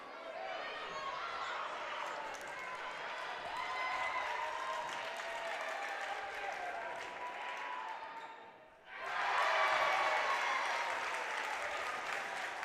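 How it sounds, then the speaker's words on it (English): Crowd applause rises in a gym at a girls high school basketball game, a steady wash of clapping that dips briefly then swells back louder, with talk mixed in. "A nice round of applause there."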